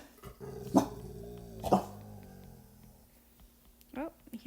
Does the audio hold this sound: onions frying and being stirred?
no